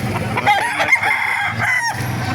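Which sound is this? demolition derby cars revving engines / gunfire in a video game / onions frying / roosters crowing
roosters crowing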